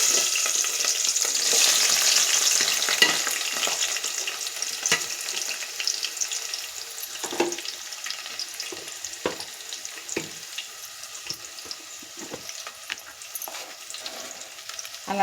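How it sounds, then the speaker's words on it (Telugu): Onion and green chili hit hot oil with a loud burst of sizzling that settles into a steady crackling fry, punctuated by occasional scraping stirs. "ఇప్పుడు ముందుగా కట్ చేసి పక్కన పెట్టుకున్న ఉల్లిపాయ పచ్చిమిర్చి వేస్తున్నాను."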